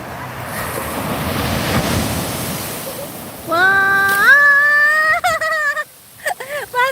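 Ocean waves rush and wash in a continuous noisy roar at Senggigi beach, then someone begins talking over the surf.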